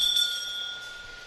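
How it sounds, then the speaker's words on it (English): Lap bell at an elimination race in a cycling arena, ringing brightly and steadily near the start of the moment then fading under a low hum of the venue. "You hear the bell every second lap"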